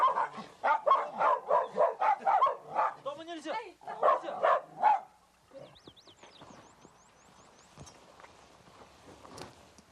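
Several dogs bark rapidly and repeatedly in a loud burst at a tiger in a snowy setting, then fall away to quieter whimpers, shuffling and scattered noise.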